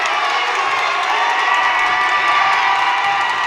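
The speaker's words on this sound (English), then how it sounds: "This crowd getting into it now." A crowd at a college men's basketball game cheers and shouts continuously, a loud, dense roar of voices that holds steady throughout.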